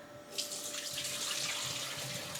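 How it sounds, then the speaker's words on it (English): Cooked elderberry liquid is poured through a strainer into a bowl, a soft, steady splashing trickle that starts suddenly and keeps flowing, faint and close. "we're going to strain our elderberries that have been cooked here"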